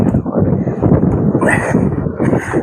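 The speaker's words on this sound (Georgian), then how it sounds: "ნახეთ როგორი ქარია." Strong wind buffets the microphone outdoors at a shotgun shooting range, a loud continuous rumbling roar that never lets up, with a voice faintly mixed in.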